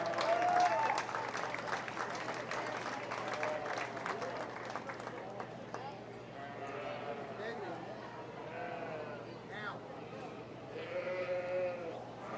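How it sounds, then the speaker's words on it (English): An audience at a 4-H fair sheep show claps in a steady patter of applause, with sheep bleating close by and a voice speaking over the clapping throughout. "Let's give all these kids a big round of applause."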